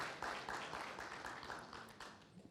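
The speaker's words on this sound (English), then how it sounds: "Please, a round of applause as she's coming on the stage." Faint, steady audience applause in a hall at a youth forum as a speaker from a Kenyan university walks on stage, distant and continuous with no voices over it.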